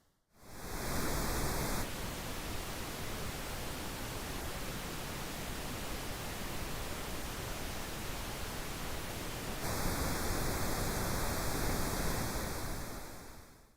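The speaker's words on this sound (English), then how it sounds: "I'm now going to solo the pink noise channels one at a time." Dense, steady pink noise test signal on a DiGiCo Quantum mixing console, a smooth rushing hiss that shifts slightly in tone partway through before returning, with no voices.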